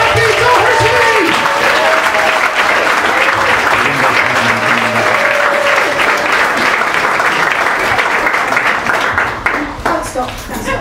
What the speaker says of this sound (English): Give it up. Go wild. Start clapping.